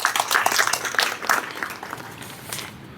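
A crowd applauding at a devotional gathering celebrating Shri Swami Samarth, with dense clapping that swells and then gradually fades away.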